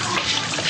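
Tap water runs steadily into a bath while a child is being washed, a continuous close hiss of flowing water with no break.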